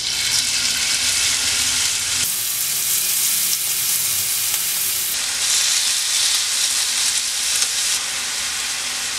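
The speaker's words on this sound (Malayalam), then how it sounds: "ആദ്യം നമുക്ക് മസാല നീട്ടി വെച്ചിരിക്കുന്ന ചെമ്മീൻ ഒന്ന് വറുത്തെടുക്കാം." Masala-marinated prawns frying in hot oil in a pan give a loud, continuous, close sizzle that swells and eases in waves over several seconds, without any talking.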